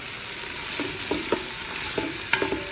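Vegetables sauteing in olive oil with a little avocado oil for a vegan chili, a steady close sizzle broken by several sharp clacks and scrapes of stirring in the pan.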